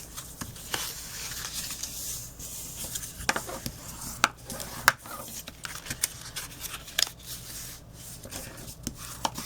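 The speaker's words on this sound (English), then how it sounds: "So you're going to cut into the score line," Scissors snip through card along score lines in a quiet workspace, giving scattered short close cuts and light scraping rubs.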